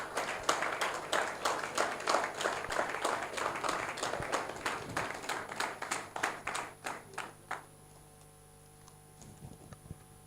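An audience at a political gathering welcomes the national chairman of the Coalition for Protection of Democracy to the podium with steady, rhythmic applause that carries for several seconds, then thins out and stops.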